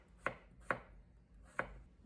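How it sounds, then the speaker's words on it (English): Peeled potatoes are cut lengthwise into 3–4 mm pieces with three sharp knife chops on a board, spaced unevenly and close up, with no talk. "The potatoes are peeled, cut lengthwise and cut into pieces of 3 to 4 mm thickness"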